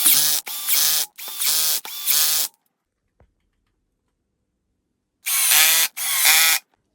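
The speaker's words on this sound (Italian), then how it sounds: "Adesso possiamo mettere le viti e stringere il tutto." A power drill or driver tightens screws while a motorized height-adjustable ACGAM ET225E desk is assembled: several short whirring bursts in quick succession, a pause, then two more bursts, close and fairly loud.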